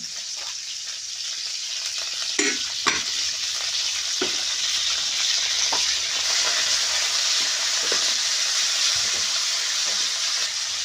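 Curry leaves and coriander sizzle in hot oil for a tempering, a continuous close hiss broken by sharp scraping and clinking knocks as the mixture is stirred.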